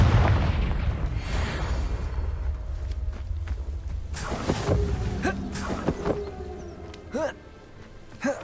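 A Confringo spell goes off in Hogwarts Legacy as a booming blast amid game sound effects and a few sharp pops, with someone speaking over the action.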